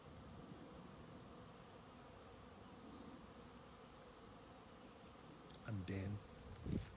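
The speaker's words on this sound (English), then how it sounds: "You have bees that produce for you your honey." Honey bees buzz as a steady, soft drone outdoors on a farm, with a few louder passes close by near the end.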